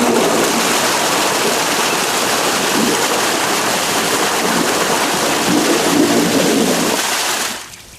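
Lake muck blower fan raised up to churn the lake surface as an aerator, giving a steady, loud rushing wash of water like a stream or small waterfall that holds even for most of the clip, then drops away abruptly near the end.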